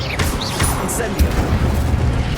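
Incendio fire spell cast in Hogwarts Legacy, a short burst of crackling, whooshing magic with a booming impact midway, layered over steady game ambience.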